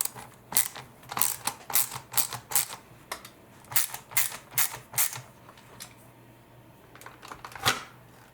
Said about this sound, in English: We'll need to use Phillips 1 screwdriver.